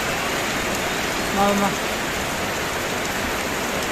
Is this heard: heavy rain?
yes